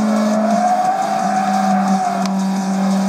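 Race cars in the mobile racing game GT Racing 2 drone past with a steady whining engine tone and a rising squeal of tires, heard as continuous game audio without speech.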